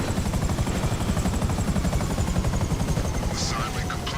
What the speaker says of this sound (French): On va garer, on va poser l'hélicoptère là.